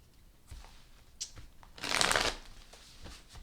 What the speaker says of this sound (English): I'm going to shuffle a couple more